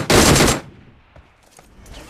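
A loud, close burst of automatic gunfire in the PUBG battle royale game, lasting about half a second, followed by faint scattered game noises in near silence.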